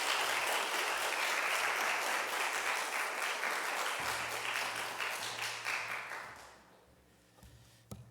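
A church congregation at a Sunday service applauds warmly to welcome the pastor, a dense sustained wash of clapping that holds steady for several seconds, then thins and fades to a few stray claps.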